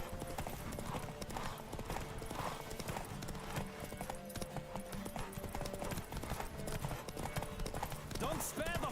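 Horse galloping in The Witcher 3, a rapid rhythmic clip-clop of hooves running continuously over game music, with voices talking throughout and a short whinny near the end.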